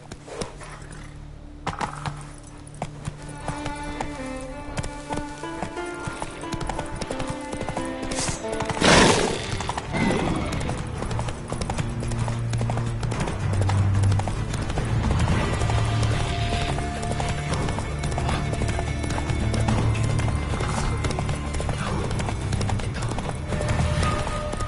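In The Witcher 3: Wild Hunt, a horse gallops with rapid, rhythmic clip-clop hoofbeats that run steadily throughout, close and fairly loud, with a brief whinny and some game sounds around it.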